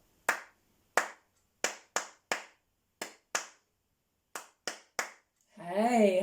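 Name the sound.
hands clapping a rhythm in a music lesson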